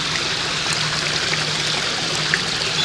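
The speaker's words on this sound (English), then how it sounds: "This is the waterfall coming in from the river." Waterfall fed from a river pours steadily into a koi pond, a continuous close rushing and splashing of water with a constant hiss and no voices.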